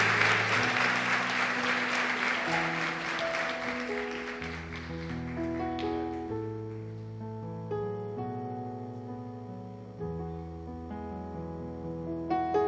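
Congregation applause in a church rises for a pastor couple, bright clapping that fades within a few seconds as organ or keyboard chords swell and carry on alone.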